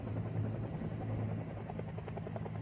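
Military helicopter hovering during a MACV SOG team extraction pickup, a steady, loud rotor and engine drone that holds continuously throughout with no voices.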